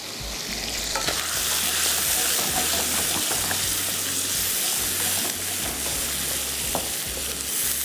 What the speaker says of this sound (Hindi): आप इसको नमक के साथ फ्राई करें